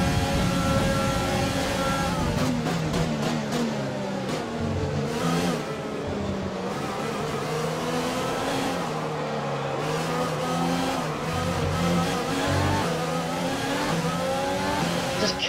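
F1 2020 video game race cars at the Vietnam circuit, a McLaren running close behind, engines screaming at high revs with rising and falling gear changes, loud and continuous throughout with no talk.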